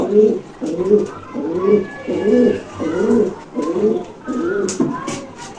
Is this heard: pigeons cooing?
yes